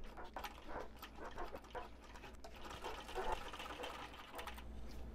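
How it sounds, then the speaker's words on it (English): A sewing machine top stitching a clutch seam at a 1/8 inch allowance, a steady rapid close mechanical whirr that runs throughout with faint background noise. "I'm going to do at 1/8 inch seam allowance, a top stitch all the way along"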